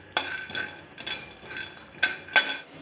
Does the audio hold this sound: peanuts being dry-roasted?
yes